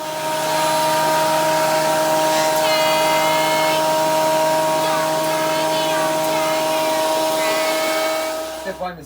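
A power planer runs along a wooden deck board to take off high spots, holding a loud, steady motor whine for several seconds with slight changes in pitch before it winds down at the end; a voice may speak over it.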